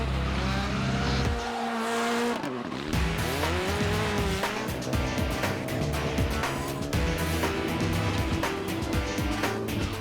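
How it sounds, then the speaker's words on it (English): Rally cars on an official street parade through Liepāja, Latvia, rev hard and burn rubber. A loud, continuous mix of engine roar and screeching tires runs throughout with no talking. "make some noise to the crowds burning rubber on the official rally parade around the streets of Liepāja"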